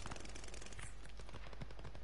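Rapid, dense gunfire from a Call of Duty Vanguard match with shotguns going off everywhere, a continuous loud barrage of overlapping shots filling the whole moment with no pause.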